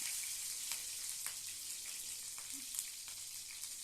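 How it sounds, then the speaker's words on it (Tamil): Garlic and green chillies fry in hot oil after fennel seeds have popped, for a prawn thokku. A soft, even sizzling hiss is broken by a few light pops and clicks, faint and close, with no talking. "சோம்பு பொரிஞ்சதும் நம்மக்கிட்ட இருக்க பூண்டும் பச்சை மிளகாவையும் அந்த எண்ணெயில் போட்டுக்கலாம்"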